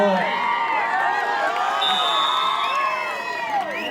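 Spectators at a village kabaddi match in the KOTA Premier League 2022 cheer and shout in a dense, continuous crowd roar with whoops and scattered clapping, loud and sustained throughout.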